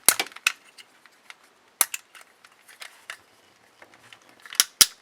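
A plastic ratchet mechanism on a Voltron Legendary Defender Red Lion toy gives sharp, close clicks and snaps, loudest at the start and end with sparse softer ticks between.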